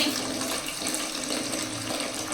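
Tap water runs steadily into a sink while a small freshly bought fish, tangra catfish among them, is rinsed, a continuous close splashing wash with no talk.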